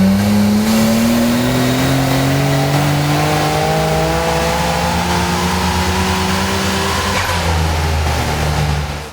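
A tuned car with a Nissan RB26 engine and Tomei Poncam camshafts accelerates hard. Its loud, close engine note climbs steadily in pitch over several seconds before easing off.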